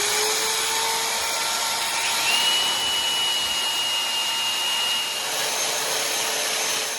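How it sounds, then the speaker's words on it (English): A spinning chuck on an old JCPenney Penncraft drill being cleaned with an angle grinder, a steady loud high whine of motors and abrasive contact running throughout without pause, no talking. "turn on the drill, put on the hold button, and then hit it with the angle grinder"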